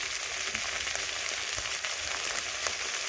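Okra (bhindi) frying in a pan with salt and turmeric powder gives a soft, steady sizzle with faint crackles throughout, fairly quiet and without talk.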